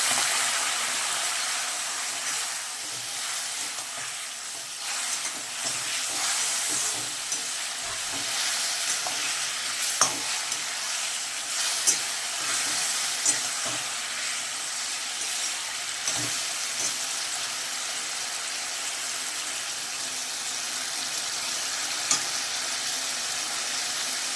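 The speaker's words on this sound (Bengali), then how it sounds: "আমি খুব ভালো করে আমি এটা কষিয়ে নিলাম" Curry sizzles and fries in a pan while being stirred, a steady hiss throughout with occasional scraping clicks of the spoon, close by and with no voices.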